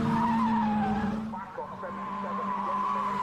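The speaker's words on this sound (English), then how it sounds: "Just gets on the gas too early. Car spins." A Caterham Academy race car spins, its tires squealing and skidding in a long wavering screech over engine noise, with race commentary talking over it.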